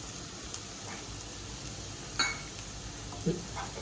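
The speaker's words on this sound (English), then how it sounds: "Let's mix it up on a high flame for a minute." Golden-brown onions with chili powder stirred over a high flame, heard as a low steady sizzle with a few soft utensil clinks against the pan.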